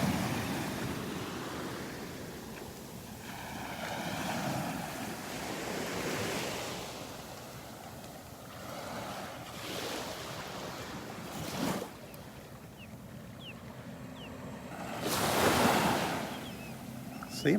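Waves rolling in and breaking on Vanderbilt Beach, soft swells of surf rising and fading with light wind, quiet and fairly distant.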